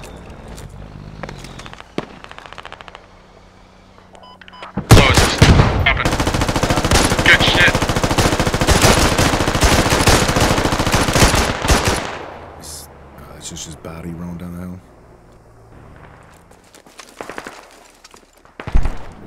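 Sustained, loud burst of automatic machine gun fire in the military shooter game Squad, running about seven seconds of dense rapid shots, then tapering into scattered quieter sounds and radio chatter.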